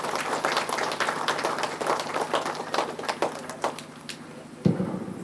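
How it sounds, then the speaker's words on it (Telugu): A church congregation at an annual Marian feast claps to welcome the bishop, a burst of scattered, brisk applause that tapers off after a few seconds, followed by a single dull thump. "మన పూజ్య పీఠాధిపతులకు ఆహ్వానం పలుకుతూ చప్పట్లతోటి ఆహ్వానిస్తాము"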